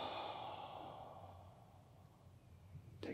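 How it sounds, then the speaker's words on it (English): A deep, slow exhale during a restorative yoga breathing exercise, a long soft breathy sigh that fades gradually, close and quiet, with a brief rustle at the end. "taking our deepest breath yet. So exhale, letting go"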